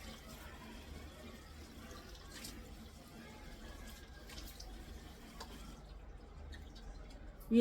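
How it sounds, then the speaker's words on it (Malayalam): Tap water runs steadily into a sink while a face is washed, a faint, continuous splashing and trickling stream close by. "നമുക്ക് കഴുകിയിട്ട് വരാം"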